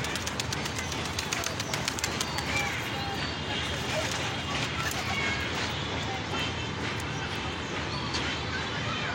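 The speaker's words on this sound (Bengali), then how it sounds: "অনেকগুলো কবুতর আছে" Pigeons coo and scurry about on the roof of a four-storey house in Gazipur, a busy close flutter and shuffle of birds with soft cooing, while people talk throughout.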